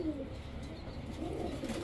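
A black checker racer cock pigeon, anar-eyed, coos softly in a low, rolling murmur repeated through the moment, close by over a faint background hum.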